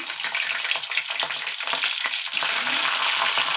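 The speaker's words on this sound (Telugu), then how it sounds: "ఇప్పుడు ఆయిల్ వేసుకున్నానండి ఆయిల్ వేడెక్కింది ఇప్పుడు కట్ చేసి పెట్టుకున్న పచ్చిమిర్చి" Chopped green chillies dropped into hot oil, sizzling loudly and close with brief stirring clicks, the frying hiss growing steadier and fuller toward the end.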